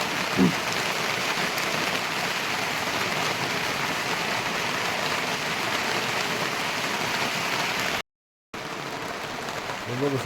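Steady rain falls on a farm in Jalna district, a constant close hiss of drops on surfaces that cuts out briefly near the end before resuming.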